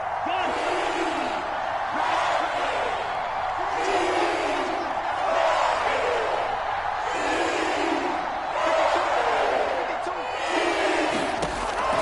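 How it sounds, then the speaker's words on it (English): A dense, continuous roar from a packed NFL football stadium crowd building ahead of a big third down in a Panthers game, with rhythmic swells of cheering and scattered shouts throughout. "The crowd getting into it as we come up on a big third down."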